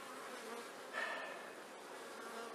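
Honey bees buzz steadily at close range while a hive is opened for inspection, frames heavy with capped brood and pollen-laden workers, a dense continuous hum with a brief louder swell as bees pass near.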